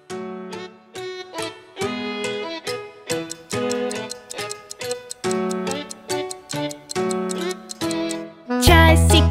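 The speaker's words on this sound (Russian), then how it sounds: "Часики тикают, тик-тик-так." A clock ticks in a Russian children's cartoon, voiced as a steady run of bright, pitched tick-tock notes about two per second. The notes are loud and clear with nothing else under them, and they end in a brighter, fuller burst.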